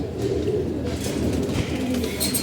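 Pigeons cooing steadily and close by, with a continuous bird murmur over a low background rumble and brief chirps, recorded around a new cage where pigeons are being paired for breeding.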